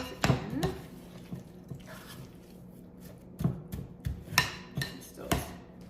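Frozen hash browns being stirred into a casserole dish, giving scattered clinks and scraping taps of a utensil against the dish, a few sharper knocks standing out over a quiet room.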